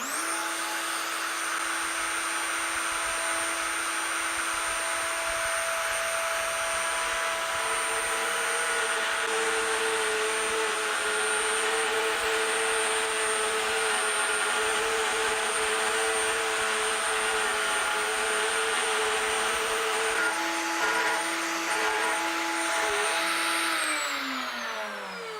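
A plunge router cutting screw threads into wood, a loud steady high-pitched motor whine running continuously for about 25 seconds before it spins down at the end, with no talking.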